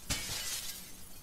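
Glass shattering in the video game Gunpoint, a single sharp crash at the start followed by a bright spray of tinkling shards that rings on steadily for about a second, loud and alone with no talk.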